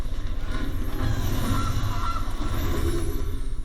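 A goose honks in the MTG Arena card game, a steady run of nasal honking calls that holds at an even, fairly loud level throughout.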